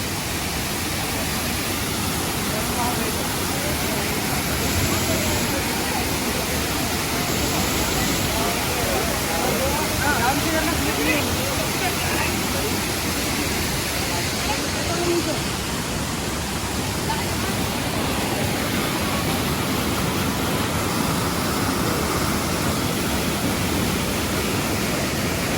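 Neer waterfall roaring in a constant, loud, dense rush of falling water that fills the whole clip without a break.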